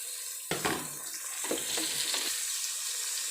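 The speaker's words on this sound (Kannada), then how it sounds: "ಈಗ ಟೊಮೆಟೊ ಬೇಯ್ತಾ ಇದೆ" Chopped tomatoes frying in hot oil with onions for a soybean vegetable biryani, a steady close sizzle broken by a few louder bursts of hissing and stirring, with no voices.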